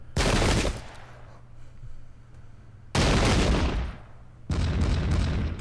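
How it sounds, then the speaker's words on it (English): Cannon and artillery fire in an American Revolution battle game: three loud, close booming blasts with noisy roaring tails, spaced a couple of seconds apart, each dying into quieter battlefield rumble. "Ooh, they've got some artillery."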